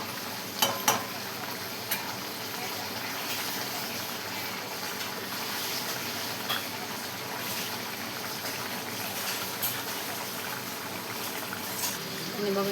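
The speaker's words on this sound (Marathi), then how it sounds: "आणि बघा अशी किती मस्त आपली अशी भाजी शिजत आहे बघा आता." A mixed vegetable dish of cauliflower, cabbage and potato cooks in a pan with a steady, soft sizzle and bubbling, with a few faint clinks from a utensil and brief speech in the background.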